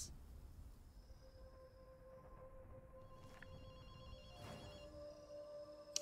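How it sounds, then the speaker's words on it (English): A phone rings inside a yokai hunting video game, faint electronic warbling tones repeating over quiet ambient hum, with a few sustained synthetic notes and no speech. "Hey, Akito, you hear a phone ringing?"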